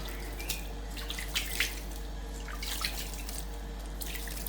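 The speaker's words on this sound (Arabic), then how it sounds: "ونجي نشمخو بالماء." Water poured from a cup onto semolina in a kitchen to moisten it for traditional masfouf, a soft steady splashing and trickling with faint drips, close and fairly quiet, with no voices.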